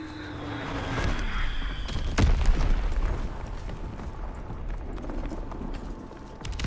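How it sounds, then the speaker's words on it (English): An enemy bomb explodes during a capture-the-flag match on the Flak Tower map: one sharp, loud blast at the two-second mark, then a lingering rumble under continuous game noise. "Enemy bomb incoming."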